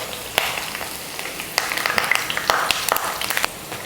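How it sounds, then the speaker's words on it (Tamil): Bakery-style dal pakoda deep fries crisply in hot oil with curry leaves, a steady sizzle broken by sharp crackling pops, close and moderately loud. "நல்லா மொறுமொறுப்பாக பொரிச்சு எடுத்துக்கோங்க."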